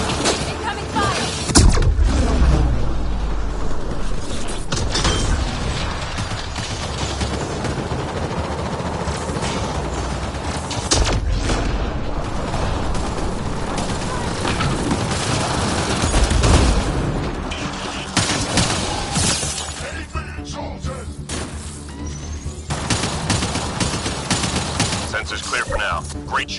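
Gunfire erupts in Mass Effect Andromeda combat, with bursts of automatic shots and booms layered over a busy battle soundscape, loud and sustained, with in-game voices calling out between volleys.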